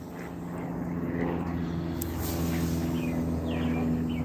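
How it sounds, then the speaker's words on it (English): A low-flying airplane passes overhead, its broad engine roar swelling gradually and holding steady, with faint bird chirps scattered over it and no clear talk. "that's a low-flying plane"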